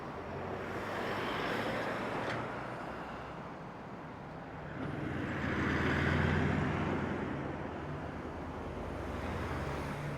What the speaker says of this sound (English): this is to block all the traffic noise, because what we're on now is a main road here